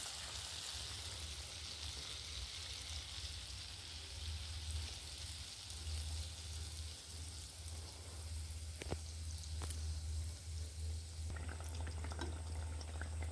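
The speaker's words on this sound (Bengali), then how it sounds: "কড়ায় সাদা তেল দিয়েছি, তেলটা গরম হয়ে গেছে, দিয়ে দিলাম খানিকটা।" Sugar pitha batter fries in hot white oil in a village kitchen pan, giving a steady, soft, even sizzle that carries on throughout with no talking.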